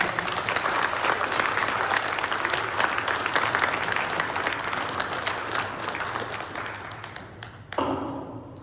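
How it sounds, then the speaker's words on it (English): A conference audience at a Targeted Justice 2024 event gives a long round of applause. The thick, steady clapping gradually thins and fades, and a thud follows near the end. "Everybody give a round of applause for Craig."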